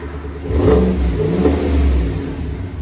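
A 2022 Chevy Silverado RST with a 5.3L V8 and Solo Performance cat-back exhaust revs twice up close, each deep throaty swell rising and falling over a low rumbling idle.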